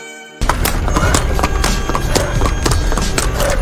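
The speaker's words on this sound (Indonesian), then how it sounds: "Hingga langkah kaki pun menjadi suara sepatu kuda." In a film about a two-legged horse, footsteps turn into a horse's hooves clip-clopping, a loud, steady run of quick hoof beats that starts abruptly after a brief quiet moment.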